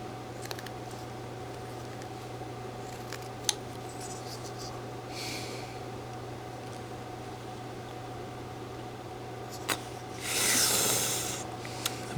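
A knife whittles a small wooden hiker figure, making quiet scraping rasps with a few sharp clicks over a steady low hum, close by and faint.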